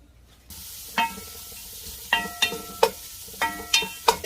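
Korean beef frying in perilla oil in a pot for seaweed soup, a low sizzle broken by sharp clacks and scrapes of a utensil stirring against the pot, close and without speech.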